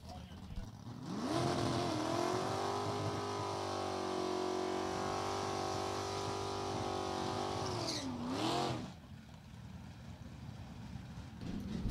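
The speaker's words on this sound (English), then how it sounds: "Wilbur Thornton Super K automatic Pontiac Trans Am" A 1974 Pontiac Trans Am drag car with a Super K automatic and a 400 cubic inch Pontiac engine holds a loud, steady roar for several seconds, then pitches up sharply and cuts off, leaving quieter track ambience.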